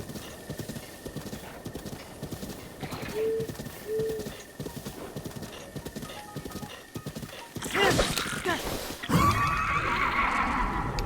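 A horse in Zelda: Breath of the Wild trots with steady clip-clop hooves, then lets out loud, close neighs and whinnies near the end, with brief tonal game sounds and someone talking over it.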